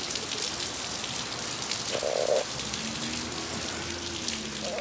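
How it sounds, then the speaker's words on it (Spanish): Heavy rain pours down steadily in a dense, hissing wash, with a brief faint tone briefly rising above the downpour. "Está lloviendo bien fuerte"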